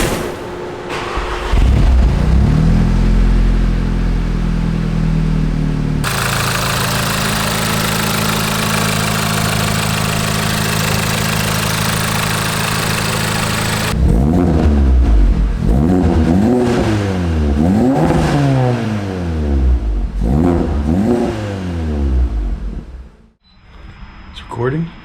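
An Audi A3 race car engine cranks, catches and settles into a loud idle close by, then is blipped repeatedly in sharp revving bursts before cutting off near the end.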